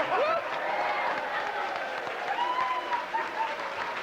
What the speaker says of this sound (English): give him a real warm applause